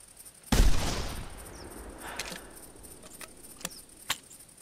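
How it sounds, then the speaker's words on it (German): One loud 8x57 rifle shot cracks at close range in the hunting game theHunter, followed by a long decaying rolling echo and a few faint, sharp clicks afterward. "Der Klang von der 8x57, der ist richtig geil."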